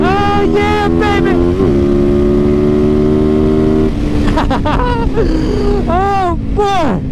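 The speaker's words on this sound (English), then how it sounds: "I love hitting wide open throttle on this bike" A supermoto motorcycle at wide open throttle, its engine climbing through steady revving tones, dropping briefly between gear changes and pulling hard again, loud and close throughout.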